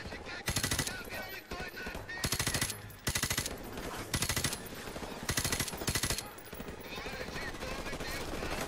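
Gunfire from soldiers in Call of Duty: Modern Warfare Remastered, with loud bursts of automatic weapon fire repeating in short volleys over continuous battle noise.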